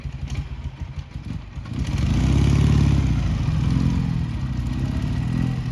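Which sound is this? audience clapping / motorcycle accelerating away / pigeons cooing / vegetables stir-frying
motorcycle accelerating away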